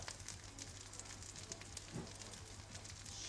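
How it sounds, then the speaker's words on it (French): Faint, quick crackling rises from food cooking on a kitchen hob, scattered sharp ticks over a low, steady background hum. "vous pouvez entendre le truc qui crépite, je pense là"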